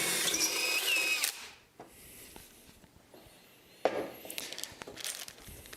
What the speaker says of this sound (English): I'm going to drill right through.